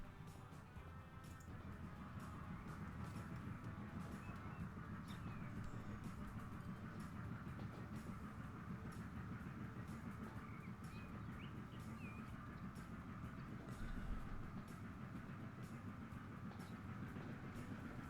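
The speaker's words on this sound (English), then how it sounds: "Do you want to watch a train?" Train rolling along rails in the railway simulation game Transport Fever 2, a steady rumble with faint rhythmic clatter and occasional bird chirps, continuous and moderately loud.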